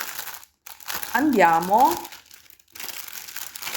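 A plastic bag of yarn crinkles as it is opened, close and crisp, with rustling bursts around a short spoken phrase.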